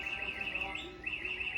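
Electronic bird chirps and tweets played through an R2-D2 droid's mirrored sound app, a bright warbling twitter that repeats in two bursts with a short dip between, steady and fairly close.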